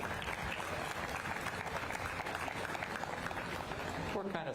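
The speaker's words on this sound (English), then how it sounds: "Let's give these young people a big round of applause." A crowd applauds steadily at a county fair beef show, dense sustained clapping filling the whole moment at moderate distance before tapering off near the end.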